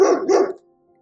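A dog in France lets out a single loud, close bark, slightly drawn out, followed by quiet.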